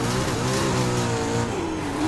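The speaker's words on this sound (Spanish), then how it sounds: "este carro supuestamente es de carreras" A McLaren race car's engine revs continuously in the Need for Speed Heat video game, loud and close, with a rising and falling engine tone and no talking.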